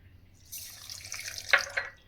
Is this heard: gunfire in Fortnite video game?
no